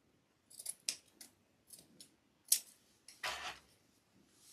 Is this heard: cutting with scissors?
yes